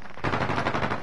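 Rapid automatic gunfire in an online shooter game, a dense, loud burst of closely spaced shots lasting about a second, with a brief rising tone at the end.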